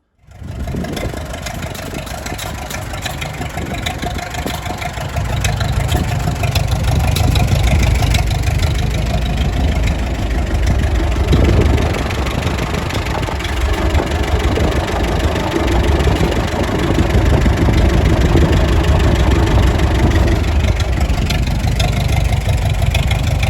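A Farmall M tractor engine runs outdoors at a steady idle, a loud continuous low rumble with a faint knock. It picks up slightly in weight partway through and holds there, with no voices.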